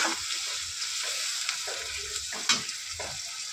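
Onion and tomato fry in a pan with a steady, close sizzle, and a few soft stir clicks and scrapes break through. No one speaks.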